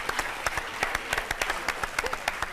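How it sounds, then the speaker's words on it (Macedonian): Audience applause for a singer named Hristi at a live music show in Ohrid, a dense run of sharp, close hand claps in a fairly steady rhythm, loud and continuous for a few seconds with no talking. "Дајте му еден аплауз на Христи"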